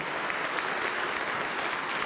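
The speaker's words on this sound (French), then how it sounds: "je souhaiterais, s'il vous plaît, qu'on l'applaudisse" A dense, even ovation from an audience at a speech by a regional president in Savoie, with clapping held at a steady level throughout and no voices over it.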